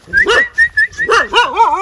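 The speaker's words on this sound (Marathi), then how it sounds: "ओळखीचे नाही त्या कुत्रे बघा, ओळखीचे नाही ना" Village dogs bark and whine at unfamiliar visitors near farmland, a series of sharp close barks and rising yelps in quick bursts.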